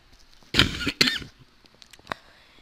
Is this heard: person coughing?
yes